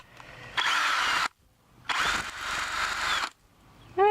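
A power drill with a bit runs in two sustained bursts of about a second each with short pauses between, close and fairly loud, while setting up meat bird pens outdoors.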